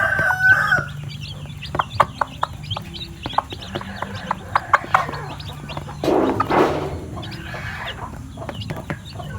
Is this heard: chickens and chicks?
yes